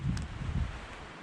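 Gusty wind buffets the microphone outdoors on a mountain hike, a steady low rumble swelling in two strong gusts, loud and close, with no talk.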